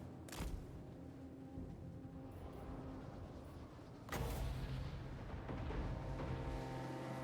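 Cannon fire in the strategy game Total War: Warhammer 3 during an Empire and Bretonnia battle, with two heavy booming blasts, one right at the start and another about four seconds in, over a dense, continuous battle rumble.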